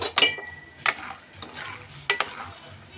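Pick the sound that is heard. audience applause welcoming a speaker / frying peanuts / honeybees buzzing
frying peanuts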